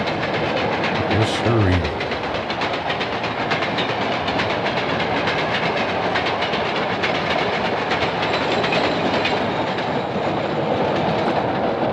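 A freight train hauling new automobiles and stock cars rolls past at close range to its caboose, a loud steady rush with rhythmic clickety-clack of wheels on rail joints throughout, and a brief voice early on.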